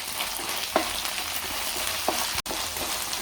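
Ginger garlic paste frying in hot oil in a pan while cooking dahi bhindi, giving a steady close sizzle with a couple of brief stirring scrapes.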